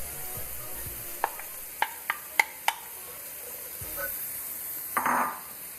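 Onion added to garlic sizzling in a pan for a shrimp and chorizo risotto, a faint steady sizzle punctuated by several sharp utensil clinks and a brief burst of stirring near the end.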